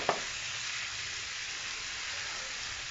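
Chopped tomatoes fry in a pan for egg jalfrezi, giving a steady, close hissing sizzle throughout after a single sharp clink at the start, with no talk.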